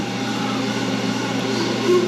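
A cheap CNC lathe spindle spins with a steady whirring hum and faint tonal whine, close and continuous over the short stretch, rising slightly at the end.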